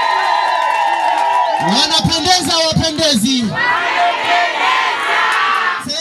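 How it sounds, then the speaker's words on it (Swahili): Crowd cheering at a lively gathering, with high warbling ululation cries rising over the roar around the middle, mixed with shouting voices and people talking throughout. "Na vigelegele tafadhali."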